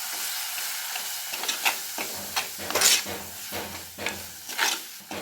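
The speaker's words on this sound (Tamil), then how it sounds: "மஞ்சள் தூள், ஃப்ளேமை கம்மி பண்ணிக்கோங்க, மிளகாய் தூள், மல்லித்தூள் எல்லாம் சேர்த்து கலந்துக்கலாம்." Turmeric, chili and coriander powder are stirred into masala frying in a pan over lowered flame, giving a soft steady sizzle broken by intermittent scraping strokes of the spoon, close and moderately quiet, with no voices.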